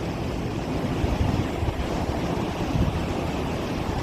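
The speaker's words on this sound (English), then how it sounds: "Y'all get to hear the water." Continuous roar of water at Niagara Falls seen from the American side, a dense rushing wash with some wind buffeting on the microphone and no talking.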